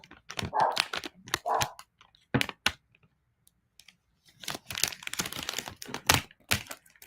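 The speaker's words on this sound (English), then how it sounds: "Dog." A dog barks a few sharp times near a crafting table where a round wood sign is being made, mixed with crinkling of transfer tape and light tapping, then a quiet pause before more rustling.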